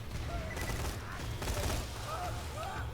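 Bursts of rapid fire from the Veruc rifle in Borderlands 2 crackle in quick successive volleys, loud and close, with swells of combat noise between the strings of shots.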